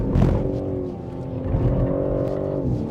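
BMW M3 Touring engine pulling hard around a race circuit during short shifts, a loud steady drone that dips briefly and rises again, heard from inside the car without talk.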